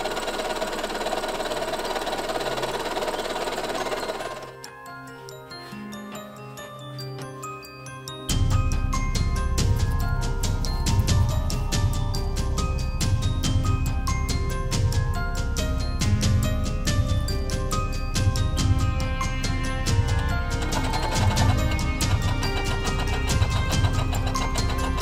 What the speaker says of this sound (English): I'm sewing the pieces that connect like along, say, this part here.